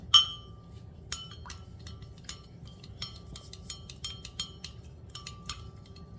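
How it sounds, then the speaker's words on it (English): A spoon stirs iced coffee in a glass, giving a quick series of light, bright clinks against the glass and ice, close and fairly quiet over a soft background. "So let's go ahead and get that stirred."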